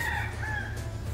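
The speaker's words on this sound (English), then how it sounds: "Damn rooster." A rooster crows outdoors during auto paint repair work on a Toyota Previa minivan, its sustained, strained call fairly loud and clear over a low steady hum, with no talking.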